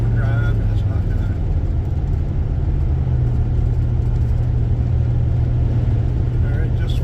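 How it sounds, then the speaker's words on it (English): A car engine drones steadily with a constant low hum and road rumble as the automatic transmission fails to shift into overdrive, the tone holding unchanged throughout while driving. "This transmission needs to shift. It needs to go into high gear and overdrive, and it's not doing"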